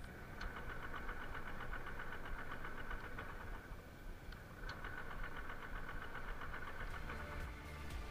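Honda SP 125 BS6 motorcycle, out of petrol, cranking on its electric starter without catching, a fast rhythmic churning that stalls, pauses briefly, then grinds on again without any talk.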